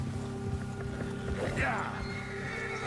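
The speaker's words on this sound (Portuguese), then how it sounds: "os cavalos ficam agitados" Agitated horses in Red Dead Redemption 2 neighing and whinnying near a wild animal, a rising whinny peaking midway over hoof clops and ambient game sound, with someone talking throughout.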